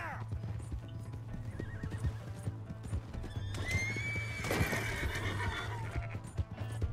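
Horse hooves clip-clop steadily while a horse neighs and whinnies in Red Dead Redemption 2, with a louder whinny near the middle over a constant low hum of game ambience.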